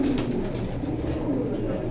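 Pigeons of several breeds coo steadily in a loft offered for sale, a low murmuring drone that runs throughout the clip under dense background chatter from people nearby.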